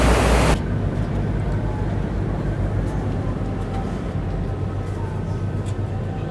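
Ferry boat crossing the Bosphorus, a steady low engine rumble and water wash running throughout after a brief louder burst at the start, with no voices.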